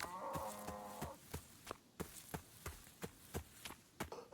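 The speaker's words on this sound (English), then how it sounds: "look at all the cows we could go grab" Cattle in the video game Rising World: one drawn-out moo opens, then a steady string of soft thudding footsteps plods on, all quiet and without voices.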